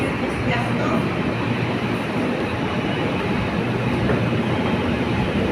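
A light rail train rumbles steadily past, a continuous loud roar of wheels on track with no pauses.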